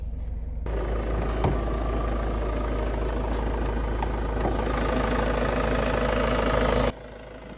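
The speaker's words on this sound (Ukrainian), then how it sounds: "Мотор робить ніби непогано." A 2017 Ford S-Max 2.0 TDI diesel with 135 kW, warmed up and idling under the open hood, gives a steady close rumble that holds even and then cuts off near the end.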